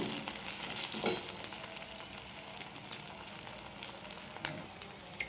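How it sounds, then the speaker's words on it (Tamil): Green chillies and okra sauté in a pan for a tamarind okra curry, giving a steady close sizzle with occasional sharper crackles and spatula scrapes, no voices. "இதையும் நல்லா வதக்கிக்கலாம்."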